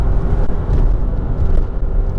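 A SEAT Ibiza FR pulls hard in second gear, with a loud, low engine drone and road rumble heard from inside the car as it keeps accelerating without a break.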